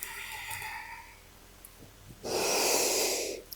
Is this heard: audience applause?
no